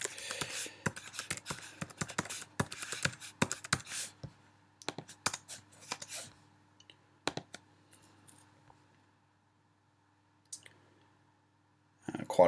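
A computer mouse clicks repeatedly in quick irregular bursts, close and crisp, thinning out to sparse single clicks and near silence toward the end.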